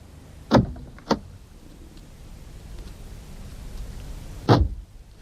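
A car door is locked in a radio drama: two sharp mechanical clunks in quick succession, a pause with low background hum, then a third louder clunk, all close and clear.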